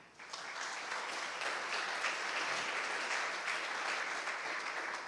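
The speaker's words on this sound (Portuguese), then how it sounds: "Aplauda o Senhor" Sustained congregational applause in a church service, a broad, even wash of clapping that swells right after a short pause and holds steady, near and fairly loud.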